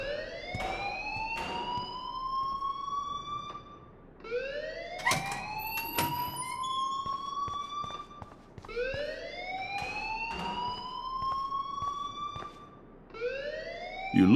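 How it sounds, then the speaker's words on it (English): An alarm in the video game Life Is Strange wails in repeated rising sweeps, each a few seconds long, fairly loud and steady, with sharp clicks scattered between them. "please turn off that alarm since that's your job"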